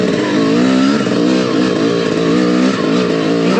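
A motorcycle accelerates close by with a loud, continuous engine roar whose pitch climbs and wavers steadily, with no speech over it.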